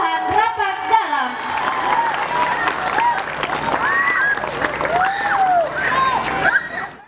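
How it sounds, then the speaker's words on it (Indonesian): A crowd applauds a delegation at a district Quran recitation competition (MTQ), with dense clapping, cheering and loud crowd chatter over it. "Beri tepuk tangan yang meriah untuk kafilah Kelurahan Rapak Dalam."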